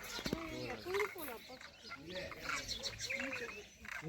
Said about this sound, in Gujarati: બધા પક્ષી નીચે ઉતરી ગયા લાઈનમાં.